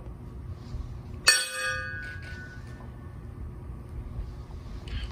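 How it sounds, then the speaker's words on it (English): A ship's bell struck once at a Navy birthday ceremony, a single bright clang that rings out and slowly decays over a quiet room with faint background noise. "Attention, one bell."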